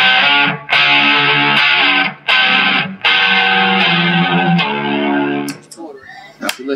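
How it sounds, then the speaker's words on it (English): Loud, tight heavy-metal guitar distortion from a Joyo pedal rings out in sustained chords, broken by a few short pauses before fading into scattered sounds. "Much more into the kind of tight heavy metal type distortion sound."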